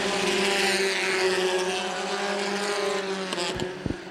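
Compact touring race cars roar around Winchester Speedway during a restart, a loud sustained engine drone that shifts pitch as cars pass, with brief clunks near the end.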